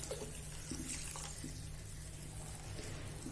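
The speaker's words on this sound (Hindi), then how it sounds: "अब हम ग्रेवी के हिसाब से पानी मिलाएंगे इसमें।" Water poured steadily into mutton kofta curry gravy, a continuous soft splashing and trickling under a low background hum.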